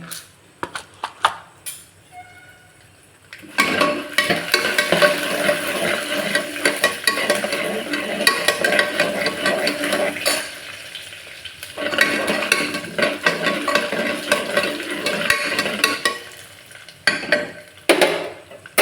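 Chana dal and urad dal frying in hot oil in a pan for rice upma, giving a steady close sizzle broken by busy stirring scrapes, with a couple of brief lulls.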